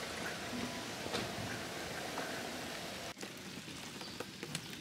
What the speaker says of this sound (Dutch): want het gaat regenen.